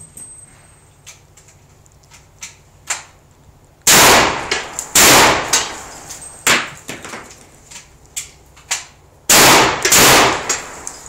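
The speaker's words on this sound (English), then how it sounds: "Ready for the shotgun?" A black powder shotgun fires in an Old West demonstration in Deadwood, giving several loud, booming blasts with quick echoing tails, separated by smaller clanks and pops of handling between shots.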